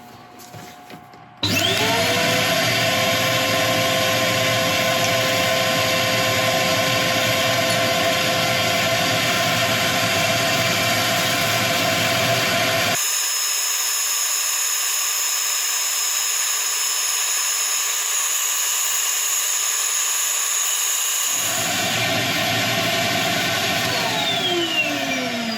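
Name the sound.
sanding a woodturning project on a lathe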